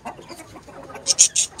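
Roosters and chickens on a rooftop cluck softly at first, then give several loud, sharp squawks close by near the end.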